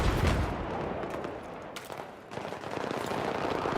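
An L85A2 rifle fires in Battlefield 3, a continuous stream of automatic shots that dips briefly in the middle before picking up again amid busy battle noise.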